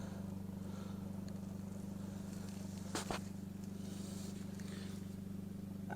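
A 2023 Fiat 500 with a tiny exhaust idles in a low, even drone, steady and fairly quiet, with a brief sharp click partway through.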